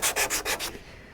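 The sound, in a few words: sanding micro filler smooth on Viper Jet aircraft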